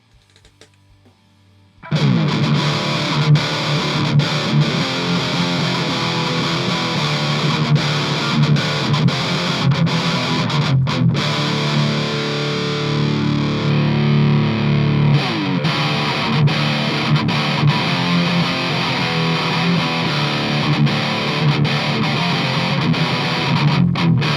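Heavily distorted electric guitar played through a Celestion G12H speaker and then a Vintage 30, a loud continuous riff with a brief break near the middle where the cabinet switches over.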